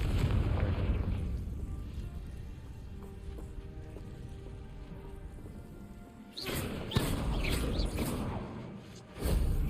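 Fiery spell blasts from Confringo in Hogwarts Legacy, a couple of booming bursts cutting through a steady rumbling game backdrop, with a sharper thud-like burst near the end.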